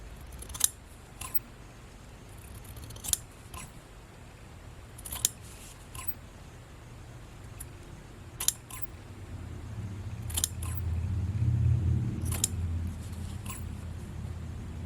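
Scissors make a few sharp snips while clipping the fabric corners of a formal dress, spaced apart and close, with a low rumble swelling near the end.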